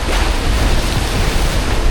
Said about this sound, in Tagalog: Kalakas ng alon.